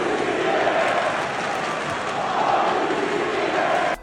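A New York arena crowd at an NBA playoff game against Atlanta booing McCollum, a dense, sustained roar of many voices that swells slightly before cutting off abruptly at the end.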